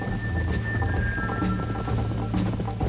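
Hooves clip-clop rapidly in a fast galloping rhythm in the video game Red Dead Redemption, loud and close, over a steady background hum with a thin tone running through it.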